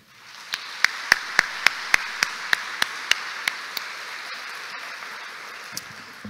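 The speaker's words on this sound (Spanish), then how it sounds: "solicito un voto de aplauso a todos ustedes" Applause at an engineers' graduation and registration ceremony: one nearby pair of hands claps in a steady, even rhythm for about five seconds over a continuous wash of crowd clapping, then the nearby clapping stops while the background continues.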